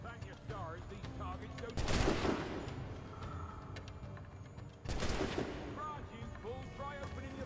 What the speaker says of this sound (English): I don't like gunshots going off when I don't know what's happening.